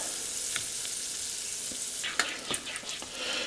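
Two tablespoons of butter melt and sizzle in a saucepan, a soft steady hiss with a few light clicks and scrapes from stirring later on.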